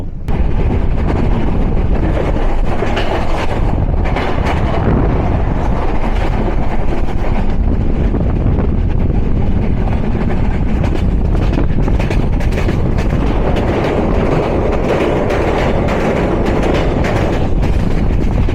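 The 705 Ekota Express runs on the rails from Dhaka toward Tangail, a loud, continuous rumble of wheels and carriages with wind noise, steady and close for the whole stretch.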